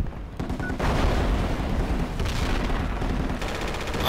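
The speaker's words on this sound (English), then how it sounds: "They're still shooting." Dense gunfire and explosions in the military shooter game Project Reality, a loud, continuous roar of overlapping shots and blasts with no clear gaps and no talk.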